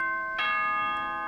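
A two-tone ding-dong doorbell chime from the Danganronpa: Trigger Happy Havoc video game rings out clearly and alone, its bright tones sustaining and ringing on after the strike.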